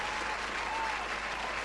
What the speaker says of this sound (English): I will give her another round of applause